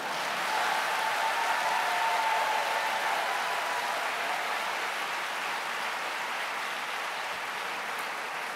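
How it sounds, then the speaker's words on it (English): Sustained applause from a large congress audience, a steady hissing wash of many distant hands that holds evenly throughout without a break. "les applaudissements sont très soutenus"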